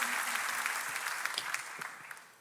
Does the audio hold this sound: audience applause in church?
yes